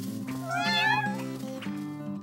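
Cartoon kittens meow a couple of times over a steady tonal music bed in the animated series PAW Patrol, the calls rising and wavering, fairly close and clear.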